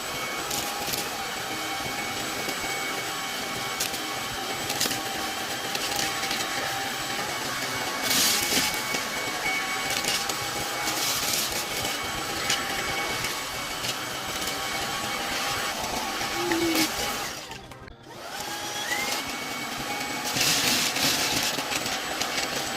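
A MOOSOO smart stick vacuum cleaner runs over hardwood floors and a rug, a steady loud whirring motor hum with brief bursts of suction noise and a short dip near the end.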